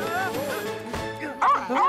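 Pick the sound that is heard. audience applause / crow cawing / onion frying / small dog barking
small dog barking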